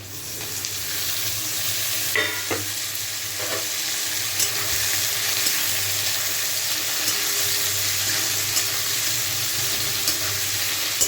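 Cut potatoes fry with onions in a pan, giving a steady, close sizzle that runs throughout, with a few brief scraping knocks from stirring.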